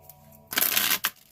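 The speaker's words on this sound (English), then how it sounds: "That was a bad shuffle." Oracle cards are shuffled during a tarot-style reading, giving a soft burst of riffling paper about half a second long followed by a brief flick, close and alone with no talk.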